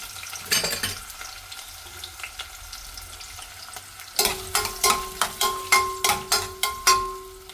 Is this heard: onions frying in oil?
yes